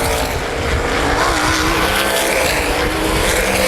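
Loud, roaring outlaw sprint cars racing on the oval at Baer Field Speedway, engines blaring in a dense continuous wall of noise that swells slightly as the cars pass close.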